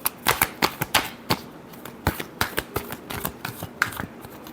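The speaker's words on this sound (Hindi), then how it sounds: "last shuffle" Tarot cards are shuffled by hand in a quick run of crisp, close riffling flicks, each snap distinct and evenly spaced, with no talk over them.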